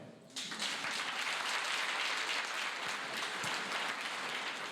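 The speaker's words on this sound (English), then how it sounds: "I want you to applaud yourself for the work that you do every single day." An audience at a Georgia Department of Juvenile Justice event bursts into applause for themselves: the clapping starts abruptly after a brief lull and continues as a dense, even roar of many hands, heard from some distance and moderately faint.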